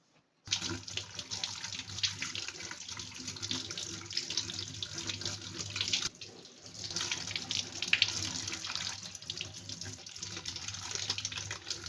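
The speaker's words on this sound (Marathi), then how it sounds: "त्याच्या आधी थोडीशी धुवून घेतो" Wild shevala vegetable is rinsed under a running tap, a close, steady splashing gush of water that briefly dips midway and then resumes with handling sounds in the stream.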